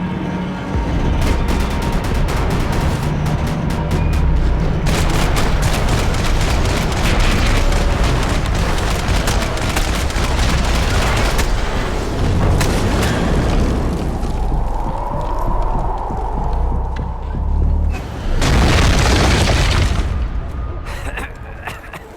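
Max Payne 3 gameplay with dense, loud gunfire bursts and heavy booming explosions filling the scene almost without pause, a rumbling blast swelling near the end, with game characters shouting over the action.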